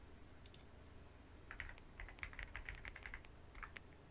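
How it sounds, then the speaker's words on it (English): Someone types on a computer keyboard in quick, quiet bursts of clicking keys, close by and alone. "Sorry that y'all can hear my typing."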